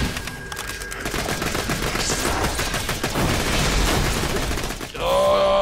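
Rapid automatic gunfire from a Borderlands: The Pre-Sequel boss fight against the Sentinel, loud and sustained bursts of shots rattling continuously for several seconds, with a brief break near the end before another burst resumes.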